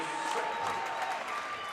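Sustained crowd applause and cheering at a high school boys basketball game between Kearney and Lincoln Southwest, a standing ovation for a player with seconds left, loud and steady throughout with no clear talk over it.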